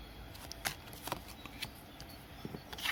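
Tarot cards are shuffled and drawn by hand in a quiet room, giving a series of close, crisp papery riffles and flicks in irregular bursts, with no talking.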